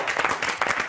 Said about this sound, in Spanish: Por favor, aplaudan.